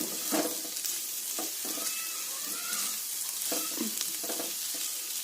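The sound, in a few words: stirring mixed vegetables frying with coriander powder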